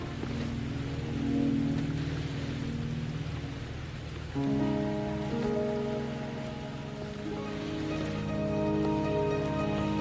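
Steady rain falls across a scene in the video game Wuthering Waves, a constant hiss of drops on surfaces with low rumbling tones and layered game music running beneath it throughout.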